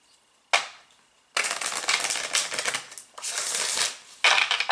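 A deck of cards is shuffled for a psychic tarot reading, giving loud, crisp riffling bursts: a short snap, then two long rattling runs and a final burst, close up with no talk.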